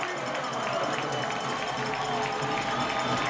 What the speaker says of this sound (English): Huge cheer from the crowd for Tom Housel